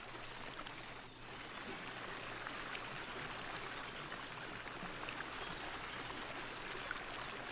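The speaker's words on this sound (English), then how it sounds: "That water looks nice. It sounds pretty good." A forest stream in the video game Kingdom Come: Deliverance flows steadily, a constant soft rushing and trickling of water with faint birdsong chirping briefly near the start.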